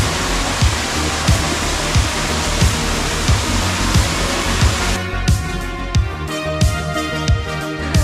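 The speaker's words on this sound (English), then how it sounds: "You can hear the noise of the waterfall." A waterfall at Iguaçu in a forest reserve roars as a broad, constant rush of noise. Regular low thumps run underneath, and the sound turns thinner and more tonal in the final seconds.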